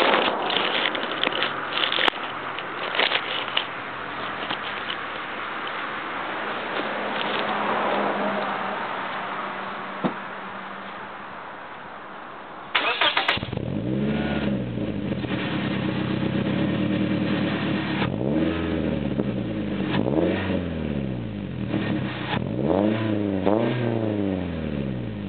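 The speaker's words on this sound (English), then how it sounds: "I'll let you hear my exhaust now." A 2010 Scion xD engine cranks and catches, then idles with a low exhaust rumble before revving in repeated swelling bursts up close; no one speaks.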